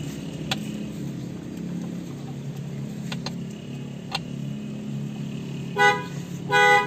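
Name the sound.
car horn honking when screws are loosened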